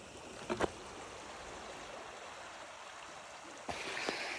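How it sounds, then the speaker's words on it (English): Creek water rushes in a steady, continuous wash close by at a small creek crossing on the Appalachian Trail, with a few brief taps near the start and a slightly louder surge near the end. "I'm at the little creek river crossing"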